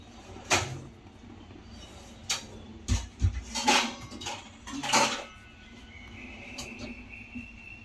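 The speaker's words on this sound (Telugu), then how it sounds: "ఇందులో మూత పెట్టి మనం పెట్టేసుకోవాలి." Lid placed on a cooking pot of creamy Afghani chicken gravy, heard as several clanks and knocks of metal spaced across the moment, close and fairly sharp over quiet kitchen background.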